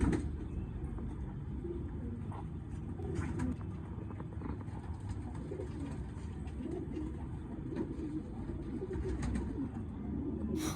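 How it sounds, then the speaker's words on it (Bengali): Pigeons on a rooftop coo and shuffle in a steady low murmur that runs throughout, with a continuous background hum and no voices. "বন্ধুরা, দেখতে পাচ্ছ এখানে অনেকগুলো কবুতর"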